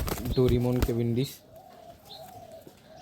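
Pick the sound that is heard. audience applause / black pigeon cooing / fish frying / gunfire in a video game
black pigeon cooing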